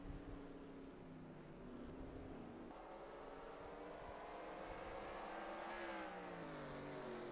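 Race cars circle Martinsville in the NASCAR Racing 2003 sim, their engines forming a steady layered drone with rising and falling pitch as several cars rev through the turns, continuous and moderately loud.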